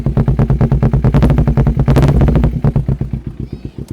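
A close, loud 2012 Kawasaki Ninja 250R two-cylinder engine with a racing exhaust idles with a lumpy pulsing beat, revs up briefly, then drops back and slows toward a rough idle.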